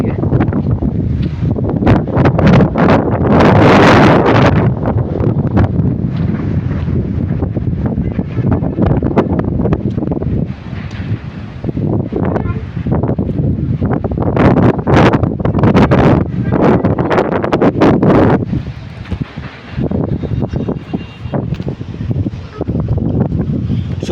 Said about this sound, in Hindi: तेज इस तरह हवा चल रही है, तेज देख रहे हो किस तरह हवा है।